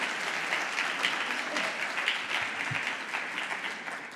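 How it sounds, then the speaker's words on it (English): Audience applause at a conference event in Dubai as a guest is welcomed on stage, a dense, steady clapping from a large crowd sustained for several seconds. "a big round of applause for ma'am."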